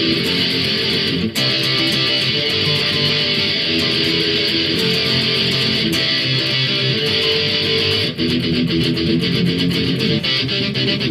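Distorted electric guitar power chords play the chorus of a song, loud and dense with steady strummed rhythm and brief breaks around the chord changes, no voices.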